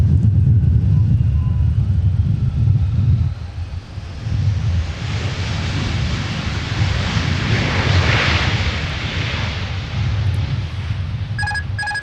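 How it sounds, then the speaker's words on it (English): Delta Airbus A350 jet airliner at Minneapolis airport, a loud sustained engine roar with a broad rushing wash that swells and passes, alone without talk. "this is Delta 160 Heavy with the A350"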